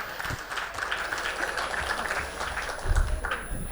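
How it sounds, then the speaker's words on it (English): A crowd at a formal session applauds steadily for several seconds, the clapping dense and continuous, with a few louder thumps near the end. "Such an esteemed dignitary deserves a big round of applause"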